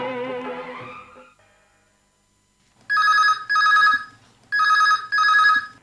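A telephone rings for a radio phone-in call on Akashvani Akola, two double rings loud and close after a brief fade of music and a silent gap.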